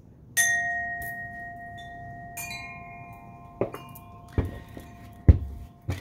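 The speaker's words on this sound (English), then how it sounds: "I do want to start first by clearing the air with the chimes." Metal chimes ring out in a few separate strikes, each tone lingering and slowly fading, heard close in a quiet room.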